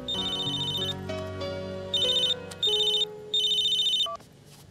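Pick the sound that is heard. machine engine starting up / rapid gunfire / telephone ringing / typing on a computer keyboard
telephone ringing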